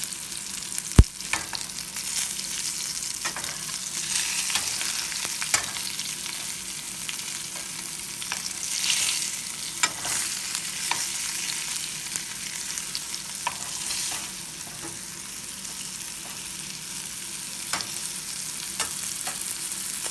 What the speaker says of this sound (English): I'm frying my delicious meatball.